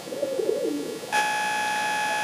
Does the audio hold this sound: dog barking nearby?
no